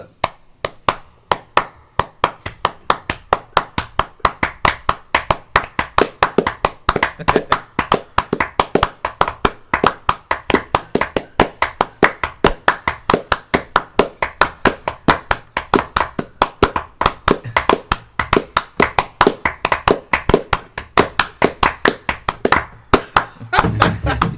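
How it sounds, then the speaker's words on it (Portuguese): Hands clap alone in a steady ternary rhythm, crisp close claps grouped in threes and sustained for over twenty seconds, played by a small group of musicians at an informal session. "vocês não querem tocar um ritmo ternário aí? Só pra mostrar a Vamos? diferença? Bora lá. Pô, Tá bom. Começar pelas palmas, então."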